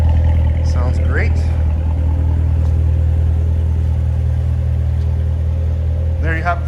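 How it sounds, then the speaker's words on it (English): A 2019 Chevrolet Corvette Z06 3LZ with a 7-speed gearbox, heard from the rear: a deep, steady exhaust rumble at idle, loud and close, holding constant throughout with a couple of brief higher sounds over it. "Nice rumble to the exhaust. Nice deep note."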